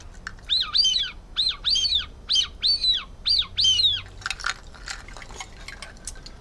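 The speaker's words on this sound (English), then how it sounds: "then a little tiny songbird whistle from China" A tiny Chinese songbird whistle gives a run of about seven bright, chirping warbles in a quick, even rhythm, close and clear, then a few fainter scattered chirps trail off.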